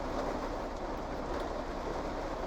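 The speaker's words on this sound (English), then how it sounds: "Maybe I'll wait for the rain to die down a little bit, so perhaps the audio is a bit less fucky." Steady rain pours throughout with dense broadband hiss, loud and continuous; no distinct thunder clap stands out and no one speaks.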